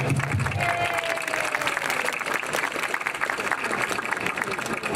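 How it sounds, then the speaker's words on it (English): Applause from a crowd at an outdoor community tree lighting event for its sponsors, a continuous patter of clapping with murmuring voices mixed in. "Please give them a round of applause."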